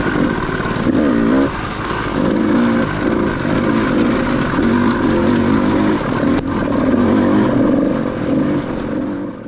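A KTM 200 dirt bike rides over riverbed obstacles. Its two-stroke engine buzzes and revs close by, rising and falling as the rider works through the rough ground, with no talking.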